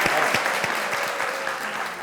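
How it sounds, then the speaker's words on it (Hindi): A studio audience at a Pakistani television talk show bursts into brief, lively applause, a dense patter of claps lasting about two seconds without any speech over it. "एदे लिए तालियां होनी चाहिए"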